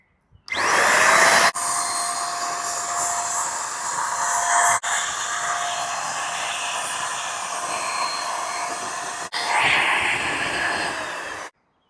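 An electric paint sprayer starts up and runs with a loud, steady, close whine, stopping briefly a few times before cutting off at the end.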